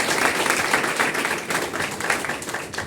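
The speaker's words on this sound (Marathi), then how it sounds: "संदीप वाडकर सर यांच्यासाठी दिलखुलास टाळ्या व्हायला" An indoor audience claps for Sandeep Wadkar, an ex-army man honoured at an event, producing a steady, moderately loud patter of many hands that continues throughout.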